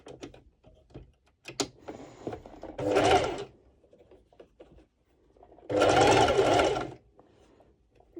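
A sewing machine runs a basting stitch on bikini fabric in two loud, sustained bursts of close mechanical whirring, separated by quieter clicks and fabric handling.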